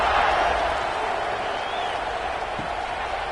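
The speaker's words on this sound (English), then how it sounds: "this crowd is buzzing after that last score" Stadium crowd in EA Sports College Football 26, Boise State Broncos versus Notre Dame, buzzing after a touchdown: a steady, dense roar of many distant voices that holds at an even loudness throughout.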